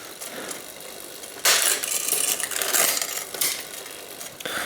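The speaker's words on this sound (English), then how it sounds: "Shift it down, shift it up, shift it down, shift it up." Road bike gears shifting on a bike converted from drop bars to a flat bar: bursts of close, bright chain-and-cog whirring and clicking as the drivetrain moves up and down, repeated several times.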